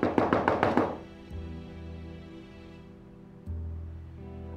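A burst of five or six quick, loud knocks on a door in a Turkish TV drama home scene, sharp and close, followed by quiet room tone and a soft thump later.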